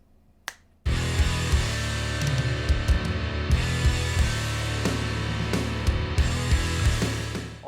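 A full music mix begins after a brief click, with a processed kick drum thumping steadily and punchily through dense instruments and bright percussive snaps, loud and continuous with no talking.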